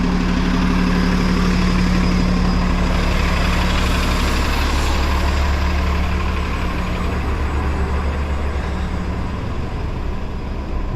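A bus idles close by on a city street in Philadelphia with a loud, steady, low engine drone and a constant hum. The sound holds unbroken throughout and nobody talks over it.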